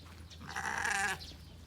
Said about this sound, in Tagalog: Natawag din ating mga tupa.